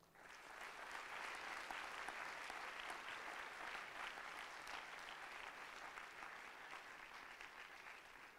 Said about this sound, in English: let's all please applaud and praise them once again